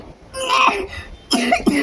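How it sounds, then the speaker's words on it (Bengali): Two harsh, wet coughs close by, the second a quick double burst after a short pause. "এই কাশিটা সহজে কমতে চায় না"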